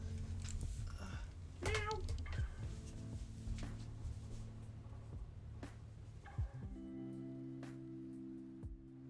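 A cat meows repeatedly at a door, wanting to be let in, with several short, close cries spaced irregularly over a quiet indoor background.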